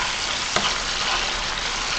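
Seasoning frying in a pan for a Jamaican corned beef dish, a dense, even, close sizzle throughout with a single small tap or stir near the start.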